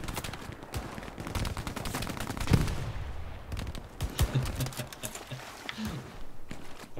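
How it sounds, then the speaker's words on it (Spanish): Rapid bursts of rifle and machine-gun fire in the World War II shooter Hell Let Loose, a crackling barrage of overlapping shots from several distances, some close and sharp, others distant. "Me disparan."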